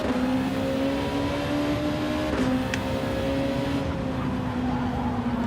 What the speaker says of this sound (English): Oh, that car Faz was in did not want to get off the line